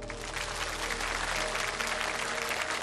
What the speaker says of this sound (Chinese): 我们把掌声送给两位，好吗？